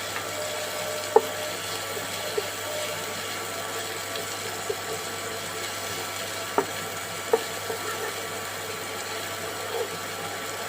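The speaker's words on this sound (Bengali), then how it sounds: "পেঁয়াজটাকে বাদামি করে ভেজে নিতে হবে" Chopped onions fry in ordinary cooking oil for a Bangladeshi shoal fish bhuna, a steady faint sizzle with a few sharp clicks of stirring scattered through.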